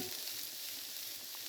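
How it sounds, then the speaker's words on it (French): Shallots sizzle in olive oil in a frying pan, a close, steady crackling hiss with tiny pops, continuing alone without any talking. "Vous voyez là, l'huile commence à grésiller dans la poêle."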